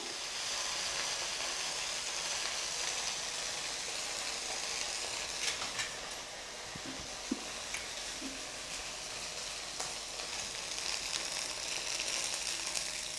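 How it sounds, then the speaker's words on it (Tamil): Idli pieces deep-fry in oil over a low flame, giving a steady, soft bubbling sizzle with faint ticking crackles throughout and no talking. "இந்த மாதிரி 4 பீஸாக போட்டு பொரித்து எடுத்துக்கலாம். அடுப்பை சிம்மில் வச்சு ஃப்ரை பண்ணுங்கள்."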